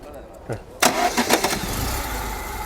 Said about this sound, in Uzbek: Motori qarang ishlashini.